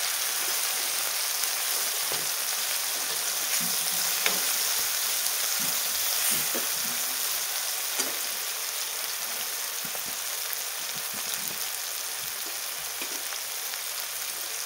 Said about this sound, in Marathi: टोमॅटो आपल्याला 2 ते 3 मिनिटं कमी गॅसवरती छान असा परतून घ्यायचा आहे